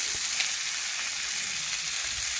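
Spices for a bottle gourd and prawn curry sizzle steadily in hot oil as they are stirred in the pan, a constant close hiss with a few faint scrapes and no talking.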